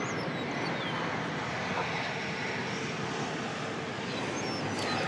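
American Airlines jet in Astrojet retro livery at DFW Airport on a hot July morning, its engine roar a steady, fairly distant broadband rumble holding level throughout with no one talking.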